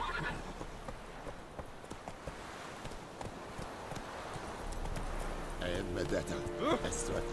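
A horse in The Witcher 3 video game gallops with rhythmic clip-clop hoofbeats and lets out a neigh, while a voice shouts commands over the hooves.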